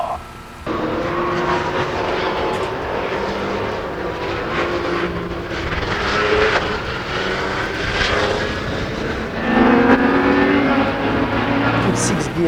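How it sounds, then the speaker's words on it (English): Peugeot 908 V12 racing car engine roaring steadily at high revs, a loud sustained drone with rising and falling pitch as it pulls through the gears, heard outdoors with some background noise. "the engine sounds very nice actually, the V12"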